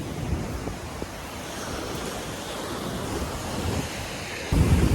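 Sea waves wash onto Tannirbavi beach in Mangalore as wind buffets the microphone, a steady broad rushing surf with gusty rumbles and a louder burst of wind noise near the end, no voices.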